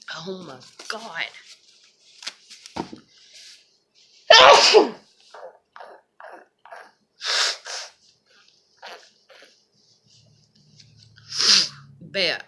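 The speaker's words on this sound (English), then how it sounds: "Can I sneeze my brains out?" Close, loud sneezes come one after another in an irregular series, mixed with breathing, sniffs and short spoken bits between them.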